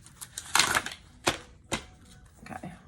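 Tarot cards shuffled over a cloth, a few soft riffling bursts and taps at close range with short pauses between them.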